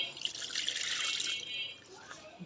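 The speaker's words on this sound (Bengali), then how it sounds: "এবার আমি পরিমাণ মতো জল দিয়ে দেবো।" Water is poured into a pot of thin jatka fish curry, giving a close, soft splashing stream for about a second and a half, then a few faint drips, with no voices.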